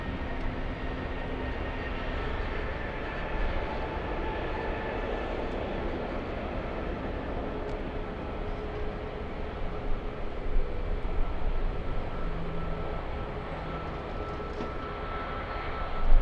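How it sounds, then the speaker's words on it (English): A Flair Airlines jet departing LAX for Vancouver gives off a steady, fairly loud engine roar that holds level throughout, with no voices. "there goes Flair flying to Vancouver"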